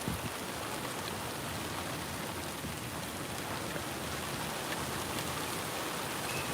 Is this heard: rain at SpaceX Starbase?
yes